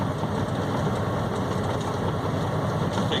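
Steady low engine drone from a short-haul truck driving along the road, continuous and fairly loud with a broadband rumble and no talk.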